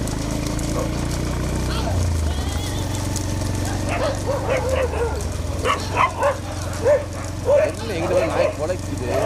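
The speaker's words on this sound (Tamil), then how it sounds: "நாய் கொலைக்குது." Dogs bark and yip repeatedly amid a noisy outdoor crowd at a bullock-cart racing event in Thanjavur, the barks mid-distance and partly buried under loud voices and engine rumble.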